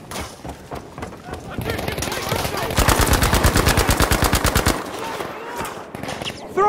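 MP40 submachine gun fire in Battlefield 5 rattles out as a rapid, evenly spaced burst of about twenty shots, preceded by scattered single shots and game noise, with a voice talking nearby.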